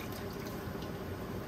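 Homemade almond milk drains from a nut bag squeezed over a container, a faint, steady liquid trickle with soft dribbles, brief and close.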